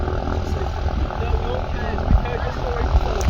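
A light aircraft at Sleap airfield hums steadily as it turns to taxi, its engine and propeller drone loud and continuous while people talk nearby.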